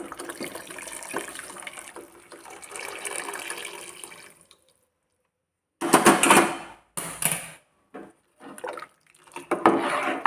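Boiled water poured into tomato and masala paste in a pan, heard as close bursts of splashing and hissing that come in short spurts after a quiet gap.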